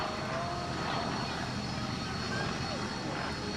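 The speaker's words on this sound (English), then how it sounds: "Standard 72-litre Pratt & Whitney 28-cylinder engine." Vintage racing aircraft powered by a Pratt & Whitney 28-cylinder radial engine at an airshow, a continuous heavy engine roar and propeller drone at a steady level, with a voice speaking over it.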